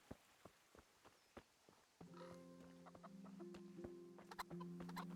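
Chickens clucking in the video game Kingdom Come: Deliverance, short scattered clucks at first, then a denser farmyard bed of clucking and fowl calls joins in, with repeated sharp clucks over it.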